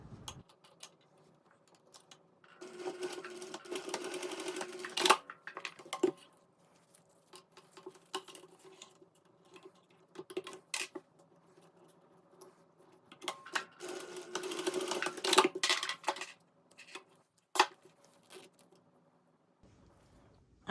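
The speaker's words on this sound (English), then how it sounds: "take it to your machine and just stitch it along this end here" A sewing machine stitches fabric along the long end of a piece, two rapid clattering runs of stitching separated by quieter ticks and handling.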